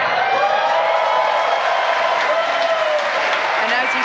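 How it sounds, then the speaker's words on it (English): A crowd claps and cheers continuously at a Falcon 9 rocket landing on a drone ship, a loud, steady wash of applause and whoops with no gaps. "you can hear by the clapping and cheering behind me, Falcon 9 has landed on our drone ship"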